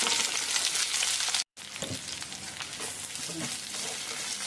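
Sliced onions and curry leaves sauté in hot oil in a pan with cinnamon and cloves, a steady close sizzle with stirring scrapes that cuts out briefly before resuming, with a faint voice in the background.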